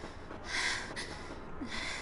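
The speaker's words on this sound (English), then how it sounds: "why are you panting?" A character in the video game Akiba's Trip: Undead & Undressed pants in two breathy, hissing bursts, fairly close and alone, with no talk over it.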